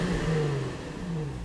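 A 2005 Nissan 350Z convertible roadster with its factory exhaust revs steadily, the engine note rising and falling at a close, even loudness with no talking.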